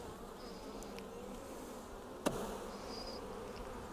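Bees hum in a steady, quiet drone around an opened beehive, with one sharp knock or tap partway through.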